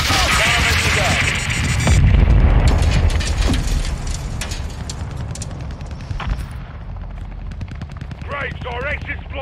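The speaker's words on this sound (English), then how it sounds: "We've got an incoming missile!" Incoming missile explosion in Call of Duty Modern Warfare II, a heavy blast swelling after a burst of gunfire, followed by rumbling debris and mechanical clatter, with game voices talking over parts of it.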